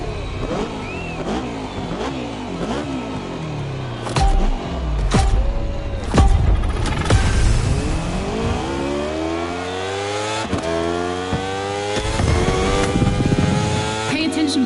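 A racing motorcycle in The Crew Motorfest revs hard and climbs through gears, its loud engine whine sweeping up and dropping with each shift, punctuated by sharp pops, sustained and close for the full stretch.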